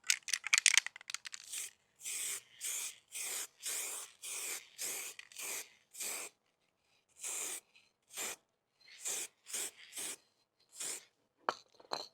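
Spray gun laying clear coat over metallic black Yamaha R125 motorcycle panels in repeated short hissing bursts, each about a half-second long with brief pauses between, close and steady, with no talking.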